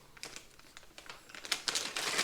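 Small plastic bag of accessories for a bike radar taillight being opened and handled, giving soft, close crinkling and rustling that builds into louder bursts of crumpling toward the end.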